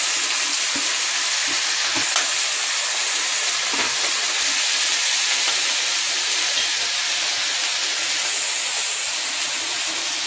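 A little water is added to potatoes frying with onion and garlic, giving a loud steady sizzle and steamy hiss close by, with a few light knocks and scrapes early on.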